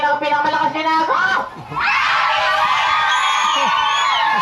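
Birthday party guests yell at full volume together, a crowd of whooping, screaming voices that dips briefly and then bursts into a sustained, loud, ragged roar close by.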